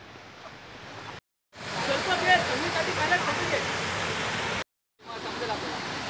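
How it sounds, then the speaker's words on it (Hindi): The waterfall at Khokhari Dam gives a loud, steady roaring rush of falling water. Two brief silent gaps cut the roar. "इतना वाटरफॉल का साउंड है, तो इसके वजह से मेरा आवाज़ कम आएगा आप लोग को"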